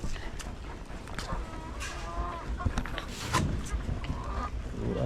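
Chickens and breeder hens on a farm in a caged or netted coop, clucking and calling in a busy, overlapping chorus with occasional louder squawks over steady background noise.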